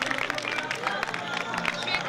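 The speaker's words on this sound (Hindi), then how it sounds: "पत्नी अपने लिए ताली बजा लें" Couples in the audience at a family gathering clap for themselves: a thick, steady crackle of hands clapping, with crowd chatter and voices mixed in, at an even level from start to end.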